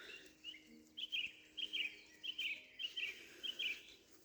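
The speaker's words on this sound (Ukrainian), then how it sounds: "Пташки співають, ну бомба." A small bird sings repeated short chirping phrases in a steady rhythm, fairly faint and a little distant, over a quiet outdoor background.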